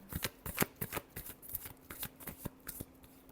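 Tarot cards are shuffled by hand in a quick, soft, irregular riffle of papery flicks, close and quiet, with a faint steady hum beneath.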